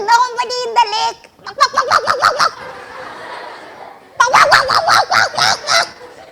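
A storyteller imitates a hen with rapid, nasal clucking and honking cries in a run of bursts, then a pause and another loud series, close and vivid with no other speech.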